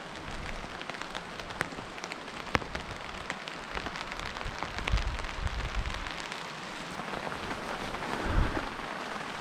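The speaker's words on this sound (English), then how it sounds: "well, it's still been raining." Heavy rain pours down steadily in isolated UK woodland, a dense hiss of drops pattering on leaves and a tarp with occasional louder drips and low gusts, no voices.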